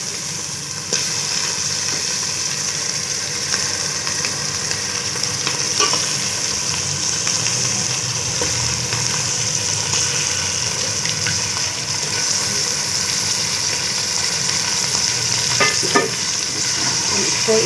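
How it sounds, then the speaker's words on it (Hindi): Beef being stirred and fried in a pan of masala for aloo gosht, a steady close sizzle with scraping stir sounds running throughout, no talking. "इस तरह से इसको चला लेंगे, मिक्स कर लेंगे सबको"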